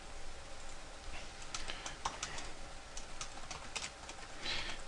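Someone types on a computer keyboard, quiet irregular key clicks coming in short bursts and scattered taps, with no voices over them.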